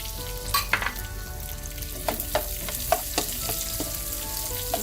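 Onions and garlic sizzle over medium-high heat in a pan, a steady frying hiss with a few scraping stirs and small pops up close, no voices.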